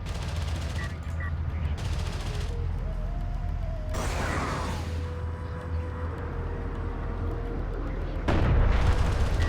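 Carrier missiles slam into enemy units in the real-time strategy game Homeworld: Deserts of Kharak, a dense, continuous battle roar of booming impacts and rattling fire that swells into a louder burst near the end.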